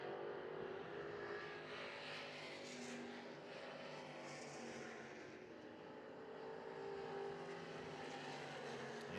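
Race cars roar around Hagerstown Speedway during a Classic Racing Series feature, a dense continuous engine drone of several cars with rising and falling passes, loud and steady throughout.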